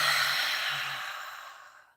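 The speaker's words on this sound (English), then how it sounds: "Just breathing this way" One long, slow breath out during a deep breathing exercise, close and airy, fading gradually to silence.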